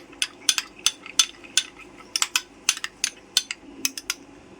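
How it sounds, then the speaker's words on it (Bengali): A spoon scrapes and clinks around a bowl while homemade yogurt culture is mixed with milk into a smooth paste, giving a quick series of sharp, close taps in an uneven rhythm, with no voices. "ভালো করে মিশিয়ে পেস্ট করে নিচ্ছি"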